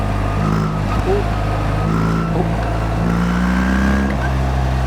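A BMW R1300GS motorcycle rides along in fourth and fifth gear at about one-third throttle, its engine a steady, loud close-up drone with wind noise and no voice.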